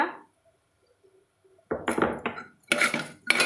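A utensil scrapes and clinks against a pot while egg biryani mixture is stirred after rock salt goes in, coming in several loud, close bursts after a quiet start.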